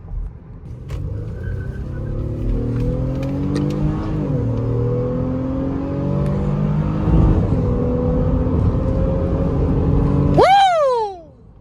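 A 2023 Honda Pilot EX-L engine accelerates hard on an open road, revving up through several gear shifts with a loud, rising drone heard from inside the cabin, then dropping away at the end.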